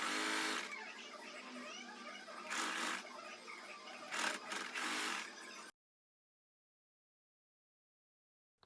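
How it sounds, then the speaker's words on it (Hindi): A sewing machine stitches farshi salwar fabric with a continuous close whirring run that surges a few times, then stops abruptly into silence. "तो इस तरह से हमने इसे एक साइड से सिल दिया है।"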